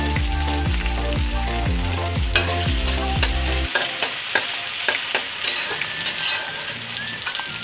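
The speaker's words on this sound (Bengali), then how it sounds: "বাপরে মাছ ফুটে গেছিলো" Fish fries in hot oil in a pan, a steady loud sizzle and sputter with sharp pops and crackles, while a rhythmic scraping stir runs through the first half before the frying continues alone.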